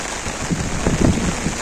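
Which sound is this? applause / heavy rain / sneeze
heavy rain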